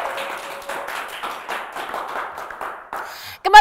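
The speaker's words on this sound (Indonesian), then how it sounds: "Tepuk tangan dulu dong." Studio audience applause at an Indonesian TV talk show, a steady patter of clapping for about three and a half seconds before a host's voice and a loud cheer cut in at the end.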